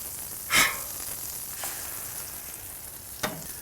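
An egg fries on a Blackstone griddle, a steady soft sizzle running throughout with a few brief brighter crackles and scrapes, fairly close and moderately quiet, with no one talking.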